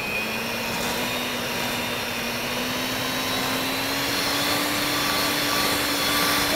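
An electric mixer beats eggs, sugar and goat cheese at medium-high speed, giving a constant loud motor whine with a steady hum that rises slightly in pitch, with no talking.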